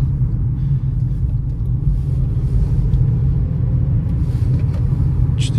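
A Hyundai Solaris drives along in manual mode, its engine giving a steady low rumble from inside the cabin with slight changes in tone as it shifts up through the gears, no voices over it.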